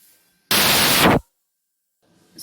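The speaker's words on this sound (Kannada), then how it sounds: "ಇದು 2 ವಿಸಿಲ್ ಬರಬೇಕು." A pressure cooker holding cauliflower pulao lets out one loud, hissing burst of steam lasting under a second, close by, then falls silent before a faint hiss returns.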